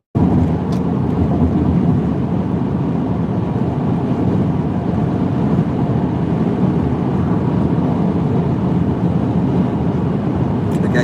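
Steady road traffic roar with cars and a van passing on a multi-lane road, a continuous loud wash of engine and tyre noise throughout with some wind buffeting.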